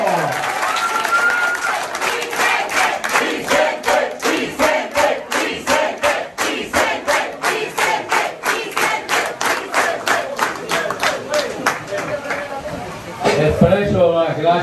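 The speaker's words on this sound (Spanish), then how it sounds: "¡Fuerte aplauso!" A crowd at a sports court inauguration claps in steady unison, a loud rhythmic beat of hands joined by shouts and cheers, fading into a brief voice at the end.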